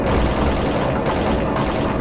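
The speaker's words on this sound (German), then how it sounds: "Die schießen immer auf die merkwürdigsten Ziele hier." Dense, continuous gunfire from a S.T.A.L.K.E.R. Clear Sky firefight, a loud unbroken rattle of shots with no voices over it.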